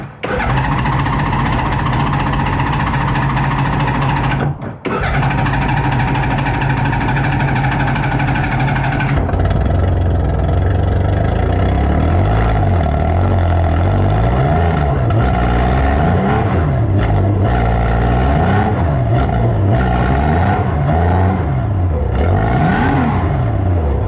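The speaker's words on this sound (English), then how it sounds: "it actually starts pretty easily. Let me demonstrate." A thrashed 1989 motorcycle engine is heard close and loud, first a steady idle and then a run of repeated throttle blips that rise and fall for the rest of the time.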